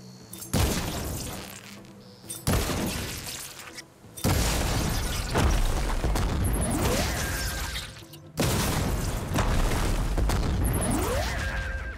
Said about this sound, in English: Is that a gun I can shoot off?